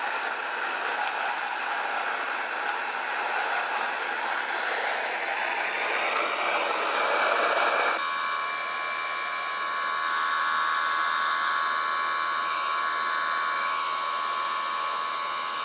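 Airliner jet engines spooling at go-around thrust in the X-Plane 11 flight simulator, a loud steady broadband roar with a whining tone that shifts partway through, continuous with no talking.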